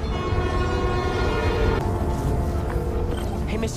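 A New York subway train in the Spider-Man Miles Morales video game rumbles steadily with a sustained tonal hum, then shifts to a rougher rolling roar partway through, loud and continuous with no talk.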